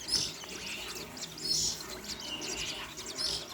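Caged birds chirp in repeated bursts of high tweets, with some soft cooing mixed in, fairly close, with no talking.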